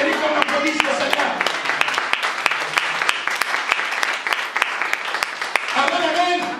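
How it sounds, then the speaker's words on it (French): Congregation applauding in a church during a sermon, steady dense clapping from many hands throughout, with voices calling out over the applause. "Ça mérite qu'on applaudisse le Seigneur."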